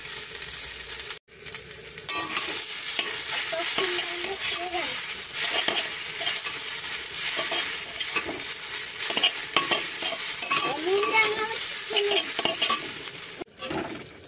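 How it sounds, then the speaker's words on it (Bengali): Boiled chow mein noodles fry lightly in a pan with a loud, continuous sizzle, while a utensil stirs and scrapes against the pan repeatedly; brief clinks break in near the start and end. "এই যে চাউমিনটা একটু ভেজে নেব হালকা।"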